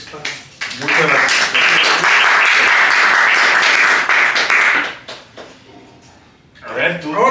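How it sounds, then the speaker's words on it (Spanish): Audience applause welcoming an honored novelist at a literary dialogue event, building quickly into loud, dense clapping that holds for several seconds, then drops away, with a voice and a short renewed patter of claps at the end. "bienvenido maestro y un aplauso"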